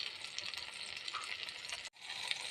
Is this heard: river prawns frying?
yes